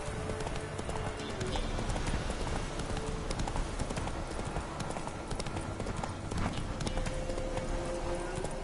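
Galloping horse Roach from The Witcher 3, a steady rapid clip-clop of hooves running continuously at close range over a faint ambient bed.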